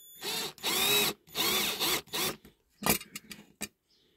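A small drill bores out the rivet heads on a 1956–61 Corgi Toys Riley Pathfinder diecast model in several whirring bursts, each about half a second long, followed by shorter stuttering pulses and then quiet.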